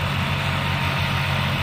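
New Holland 5510 4WD tractor ploughing a field, giving a steady, loud, low diesel drone that holds an even pitch throughout, with no voices.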